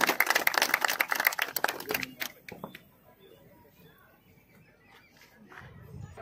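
An audience at a police passing-out parade claps loudly for about two seconds, the applause thinning into scattered claps and then fading to near quiet with a low rumble at the end.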